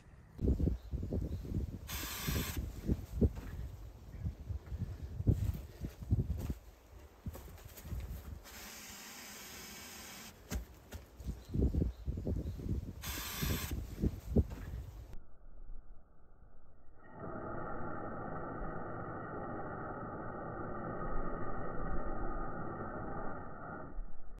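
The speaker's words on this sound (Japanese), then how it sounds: "冷凍スプレーを使って、" Freezing spray is aimed at a wasp nest, giving long hissing bursts that start and stop, close and fairly loud, followed by a steadier, duller hiss.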